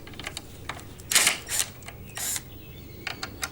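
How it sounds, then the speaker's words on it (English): Screws being backed out of a freshly glued guitar headstock scarf joint, heard up close as a few short whirring bursts between small mechanical clicks and ticks, with no talking. "So time to take the screws out and hopefully the headstock doesn't fall off."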